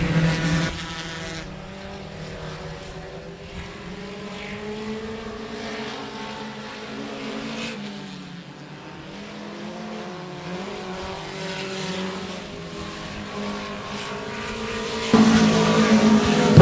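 Outlaw Mini Stock race cars roar around a speedway in a heat race, engine noise rising and falling as the pack passes at a distance, with a louder surge near the end.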